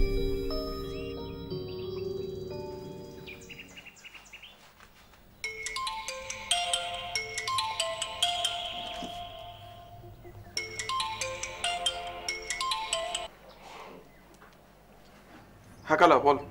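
A mobile phone ringtone plays in bursts of bright, repeating electronic melody, close and fairly loud, with people talking before and between the rings.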